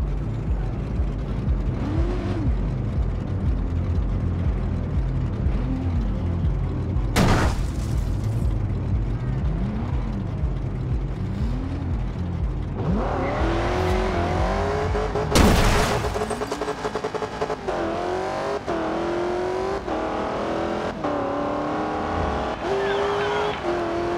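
McLaren MP4 in the Forza racing game: the engine revs up and down through repeated gear changes, rising and falling whines with a couple of sharp bursts, then settles into a higher sustained drone.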